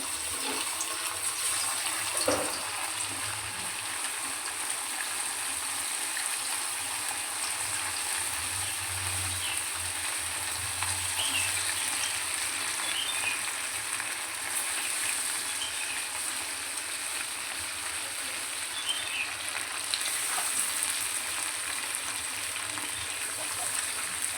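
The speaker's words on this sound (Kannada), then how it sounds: "ಕಬಾಬ್ನ ಈಗ ಒಂದೊಂದಾಗಿ ಎಣ್ಣೆಗೆ ಹಾಕ್ತಾ ಹೋಗ್ತೀನಿ" Chicken kababs fry in a pan of hot oil over a medium flame, giving a loud, steady, close sizzle that runs unbroken throughout, with no talking.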